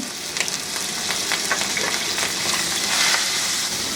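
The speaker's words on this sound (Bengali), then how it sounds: "আমি একটা কড়াইয়ে তিন টেবিল চামচ তেল গরম করে এর মধ্যে তিনটা আলু এইভাবে চারকোন আছে ডুমা করে কেটে রাখছি ওগুলো দিয়ে ভেজে নিব" Three diced potatoes fry in three tablespoons of hot oil in a wok, giving a steady close sizzle with faint crackles and light stirring and no speech.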